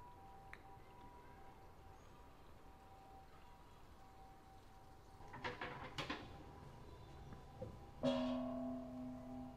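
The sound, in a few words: coin dropping into temple offering box, then temple bell rung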